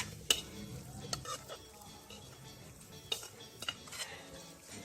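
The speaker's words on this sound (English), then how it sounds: "mixing the cheese along with the butter" Cheese and butter being stirred together in a pan for baked macaroni, a soft steady scraping and mixing with a few sharp utensil clinks against the metal, close and moderately quiet with no talking.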